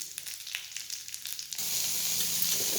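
Urad dal kali batter is stirred in a hot pan. Light taps and scrapes come first, then a loud, even sizzle bursts in and holds steady at close range.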